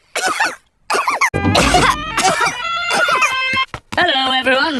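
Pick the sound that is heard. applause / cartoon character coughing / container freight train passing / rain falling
cartoon character coughing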